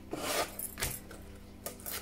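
Sandpaper rubs along the edge of an air-dry clay piece in close, soft rasping strokes, three or four short passes with brief pauses between.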